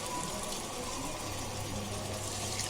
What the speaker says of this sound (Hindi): अभी हम इसमें 1 गिलास पानी डालेंगे और ये इमली डालेंगे